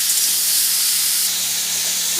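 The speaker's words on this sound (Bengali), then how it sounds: "ঝিঙে আর আলুগুলোকে একটু ভাজা ভাজা করে নেব।" Ridge gourd and potato pieces fry in hot oil seasoned with slit green chillies, giving a steady, loud, close hiss that holds unbroken throughout.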